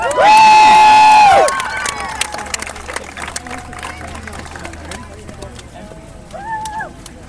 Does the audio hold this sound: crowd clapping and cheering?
yes